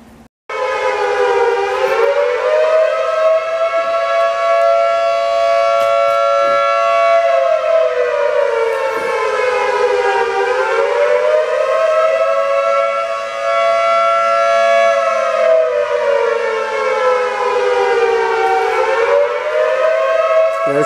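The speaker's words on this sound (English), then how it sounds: "That's the tsunami siren." A loud tsunami warning siren wails continuously, its pitch rising and falling in slow waves, steady and uninterrupted.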